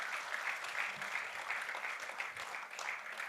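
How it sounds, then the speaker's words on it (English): Warm, sustained applause from an audience at a corporate annual business meet honouring award nominees, a dense steady patter of many hands holding an even level throughout, without any voices. "Let's give a warm applause to all those who have been shortlisted for this particular award"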